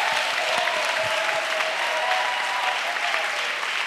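Applause from a congregation at a missionaries' retreat meeting acclaiming Jesus Christ, a continuous even wash of clapping throughout with a faint tonal hum beneath.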